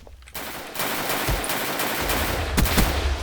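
Bursts of rapid gunfire from a gun in the Minecraft Jurassicraft mod, loud and sustained with a couple of heavier shots near the end, no talking over it.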